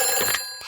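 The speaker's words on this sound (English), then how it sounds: "It's the fire phone. Oh, can you answer it, Peppa?" A telephone ringing in a cartoon fire station, a brief bright electronic bell trill heard loud and alone.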